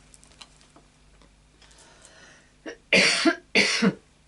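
Two loud, harsh coughs from a lingering cold, close to the microphone, following a few faint ticks and quiet rustling in an otherwise calm room.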